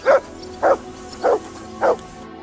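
A dog named Mutz barks in the video game Kingdom Come Deliverance II, four evenly spaced, close and clear woofs over a quiet ambient background.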